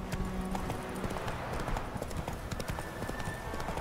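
Horse hooves clip-clopping at a steady walking rhythm in The Witcher III, close and clear over faint game ambience, with a brief voice nearby.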